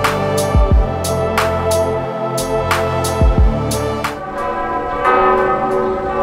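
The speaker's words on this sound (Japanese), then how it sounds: "教会の鐘が聞こえますか？" Church bells ring repeatedly in a French town in the Yonne, with several loud, resonant strikes spaced across the clip over a steady background hum, no talking.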